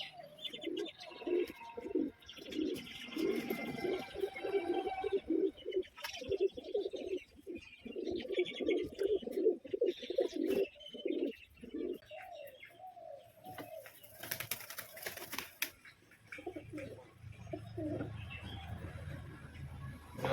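Domestic pigeons, including a red muslin pigeon waiting to be bathed, coo in soft repeated rolling bursts, fairly faint, with occasional chirps and a brief flutter of wings.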